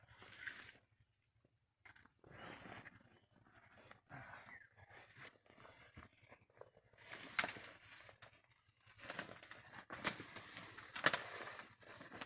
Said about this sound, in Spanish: Quiere agarrar palomas, Micho